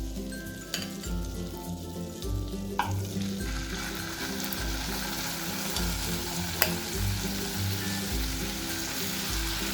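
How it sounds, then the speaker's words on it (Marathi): Chicken malai tikka pieces sizzle and fry in a hot pan, a continuous crackling hiss punctuated by occasional clinks of a utensil stirring against the pan, with a low steady hum underneath. "आता आपण हे चिकनचे पीस सोडून घेऊ।"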